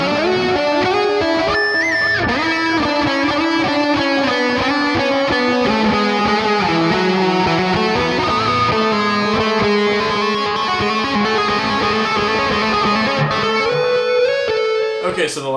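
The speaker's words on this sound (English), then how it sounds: "now we're going to do a lead tone. I've switched it to the neck pickup for this demo" A sustained, singing seven-string electric guitar lead on the neck pickup plays continuous melodic lines with a smooth, saturated tone, loud and close.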